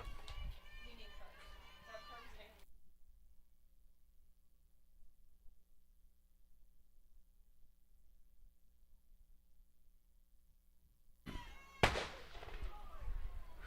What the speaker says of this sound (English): That was a firework going off just as a pitch.